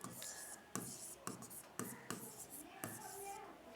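Pen or chalk writing out notes in a biology lesson, a series of brisk scratchy strokes in short bursts, close and fairly quiet, with no voices.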